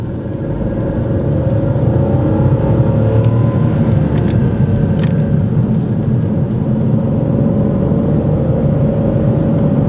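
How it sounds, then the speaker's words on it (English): A learner driver's car engine drones loudly and steadily throughout, held at high revs while driving on a test drive, a continuous strained hum with no speech. "This means he's over-revving and you can hear the engine noise."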